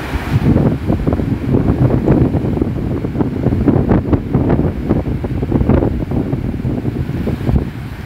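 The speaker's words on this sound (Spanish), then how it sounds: "de repente se elevan las olas hasta unos 3, 4 y hasta 5 metros de altura" Strong surf rolls in on a Veracruz beach during a heavy swell as gusty wind buffets the microphone, a loud, constant roar without pause.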